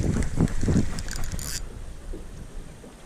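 Rough, low rumbling wind buffets the microphone outdoors on a crappie fishing trip, strongest early on with a brief bright hiss, then easing to a steadier blustery roar.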